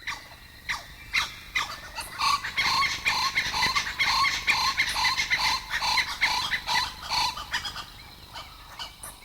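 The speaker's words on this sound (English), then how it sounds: "each day begins and ends with the same unmistakable chorus, the call of the blue-winged kookaburra" A pair of blue-winged kookaburras near their nest in an old gum tree in Kakadu, calling together in a loud, raucous, continuous chorus of cackling phrases that swells and holds with no one speaking.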